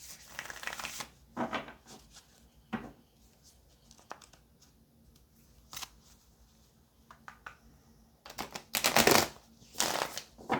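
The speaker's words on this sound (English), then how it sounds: "Let's go ahead and pull some tarot." Tarot cards being shuffled, bursts of crisp riffling and flicking separated by quiet gaps, close and fairly soft, growing busier toward the end.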